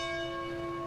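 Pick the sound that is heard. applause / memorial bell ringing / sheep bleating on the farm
memorial bell ringing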